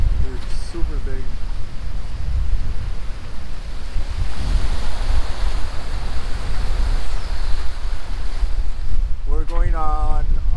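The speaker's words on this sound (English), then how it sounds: "The height of the waves, they're super big." Steady loud wind buffeting the microphone and big ocean waves rushing past a sailing catamaran at sea in 16 knots of wind, a continuous roar with a brief voice near the start and end.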